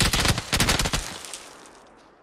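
A burst of rapid automatic gunfire rings out in PUBG, a quick string of sharp close shots for about a second before trailing off into a fading echo, with no talk.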